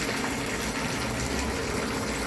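Hot tempering of chilli and curry leaves is poured into cooked moong dal, giving a brief, loud, continuous gushing splash close by with no voices.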